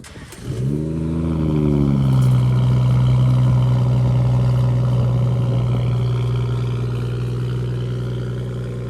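A BMW 340i engine on the road, starting with a quick rev that climbs in pitch, then settling into a loud, steady drone as the car cruises and slowly eases off near the end.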